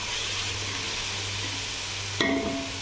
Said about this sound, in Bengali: খেপসা রান্না করার জন্য আমি পেঁয়াজ মরিচ এখানে ভাজা নিচ্ছি